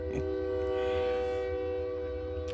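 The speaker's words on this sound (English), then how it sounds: "Gotta love that train sound." A steady, sustained train horn sounding from a distance, holding its tone for a couple of seconds without a break.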